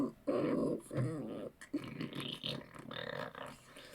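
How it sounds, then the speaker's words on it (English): Kvelte creatures in Enclave making snarling, growling calls: low, guttural and rattling with clicky textures, several bursts close together over about four seconds, moderately loud and without speech. "The snarling that they make is not aggressive. It sounds almost like a bunch of low clicks"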